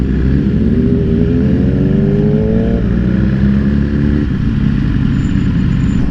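A motorcycle engine runs loud and close, revving up in a rising pitch before settling back to a steady rumble.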